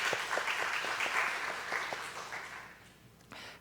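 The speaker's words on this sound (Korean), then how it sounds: "감사의 마음을 담아서 박수 한번 할까요?" A church congregation applauds in a steady wash of clapping that fades after a few seconds. A brief louder patch follows near the end.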